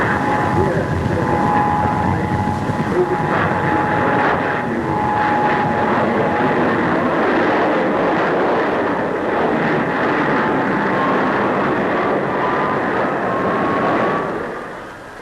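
A Supermarine Swift jet fighter roars past at an air display, a loud, sustained broadband jet rush with a shifting whine that fades toward the end, while a narrator talks over it.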